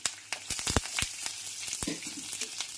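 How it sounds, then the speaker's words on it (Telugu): Tempering spices with green chili pieces and curry leaves crackle and sizzle in hot oil, with sharp sporadic pops over a steady quiet fizz, close by with no talking. "ఇదిగోండి పోపు వేగిపోయింది."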